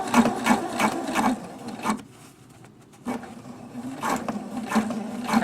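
Sewing machine stitching a hem on jeans, running in steady rhythmic bursts with a brief pause in the middle before resuming, close and clear.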